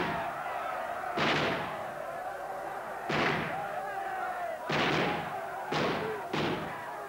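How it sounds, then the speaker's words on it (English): Staged gunshots in a theatrical performance about the Chartists, five loud sharp bangs at irregular intervals with broad bursts of noise, heard over a steady background hum. "From within, shots rang out."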